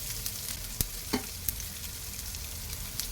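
Onions and spices sizzle in hot oil in a pan for a cassava adai batter, a steady close crackling hiss broken by a few sharp pops and stirring clicks.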